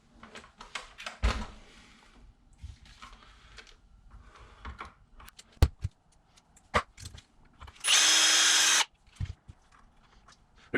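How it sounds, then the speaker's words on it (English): Steering servo horn being pried off a Traxxas X-Maxx RC truck, scattered close clicks, plastic snaps and tool knocks, with a loud one-second buzz near the end, no talk. "First I need to take this servo horn off."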